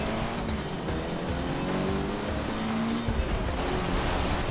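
A Toyota Formula 1 car accelerates in Forza Motorsport 6, its engine a loud, steady, high-revving roar with rising pitch sweeps, close and continuous throughout.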